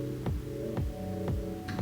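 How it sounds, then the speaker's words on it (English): A lawnmower runs outdoors as a steady droning hum with harmonic layers, a throbbing pulse repeating roughly every half second, heard alone at moderate level. "I'm so sorry about that lawnmower."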